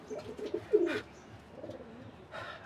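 A blue pigeon coos close by in a few soft, throaty bursts separated by short quiet gaps.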